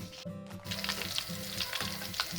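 Rolls frying in hot oil, a steady close sizzle with light stirring scrapes throughout, no voices.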